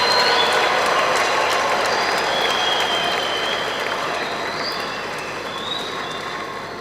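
A congregation applauds inside Notre Dame de la Paix Cathedral in Bukavu during a Eucharistic celebration, a dense, reverberant wash of clapping that slowly fades over several seconds.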